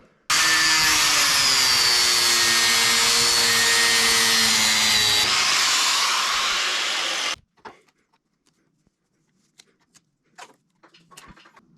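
A cutting tool runs loud and steady through a heat shield sleeve on a Ford Bronco exhaust, a whining, rising motor tone for about seven seconds before stopping, followed by faint handling clicks.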